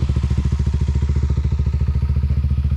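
Motorcycle engine pulsing with a rapid, regular low chug, loud and close, one of two bikes riding a dusty mountain road, with no voices.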